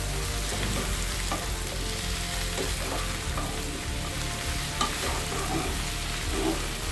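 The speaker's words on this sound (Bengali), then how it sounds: "সবগুলা ঢেঁড়স আমি পেঁয়াজ আর চিংড়ি মাছের মিশ্রণের সাথে মিশিয়ে নিব।" Chopped okra stir-fried with onion and shrimp, a continuous dense frying hiss with intermittent spatula scrapes and stirring, close up and steady throughout.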